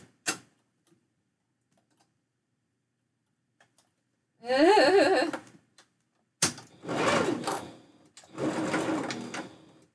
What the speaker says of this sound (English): I gotta throw this through the machine again. Because I've got a few more seams to go here.